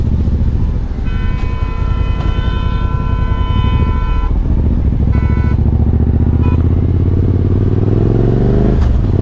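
A motorcycle riding slowly on a desert road near an oil field with its tank nearly empty: a loud, close engine drone with a deep rumble and steady wind rush, and whining tones that rise and fall as it cruises.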